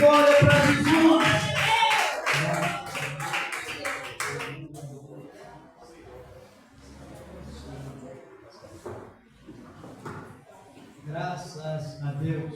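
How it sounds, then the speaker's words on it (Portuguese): A church congregation claps together during a worship service, a rapid, dense patter of hands for a few seconds that thins out into scattered claps and quieter voices. "Vamos receber com isso a palavra de Deus com palmas e glória bem alegre para Jesus."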